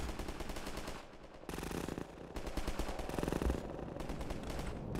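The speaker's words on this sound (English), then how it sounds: "Who's shooting?" Rapid automatic gunfire in the shooter game Half-Life 2 rattles in loud, dense bursts, broken by two short pauses before resuming.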